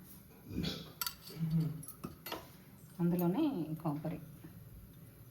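A spoon clinks and scrapes against a pan while ghee is added during cooking of paala munjalu, a few light metallic taps under someone speaking.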